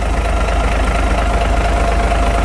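A Caterpillar 3406B diesel engine runs steadily at idle after starting, a loud, continuous low rumble with a faint knocking texture and no voices over it.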